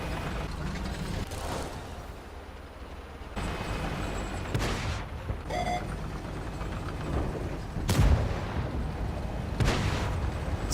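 Artillery fire in a tank game, several heavy booming shots and impacts spaced across a steady background of engine and battle noise, with a few mechanical clicks and no speech.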